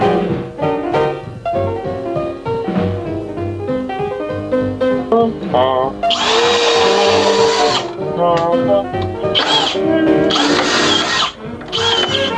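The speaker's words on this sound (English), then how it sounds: "That was drilled right over top of another stick." A drill bores into wood during a computer desk build, two loud, sustained whirring bursts rising over steady background music and then cutting off.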